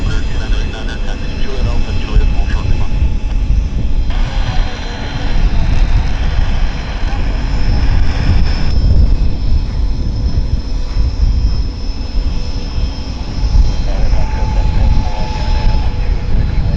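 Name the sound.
Dassault Falcon 50 business jet at the airport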